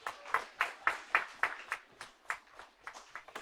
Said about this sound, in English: Please, everybody, give him a round of applause